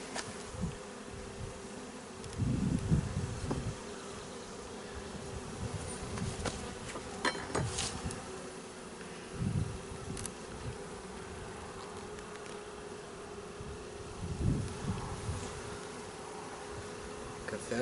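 Close, continuous droning of honey bees at an open hive, with individual insects zipping near the microphone and scattered thumps and scrapes from frames being handled.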